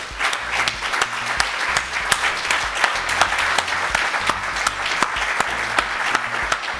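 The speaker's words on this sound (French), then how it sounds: "je voulais vous demander de l'applaudir en hommage" An audience claps together in tribute, a dense and steady round of applause with sharp individual claps standing out, continuing for several seconds without a break.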